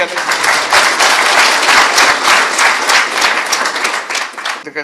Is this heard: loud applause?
yes